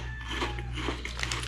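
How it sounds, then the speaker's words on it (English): Crunchy onion-flavored wheat flour snack chips bitten and chewed up close, a quick run of crisp crackling crunches over a low steady hum. "They're always crunchy."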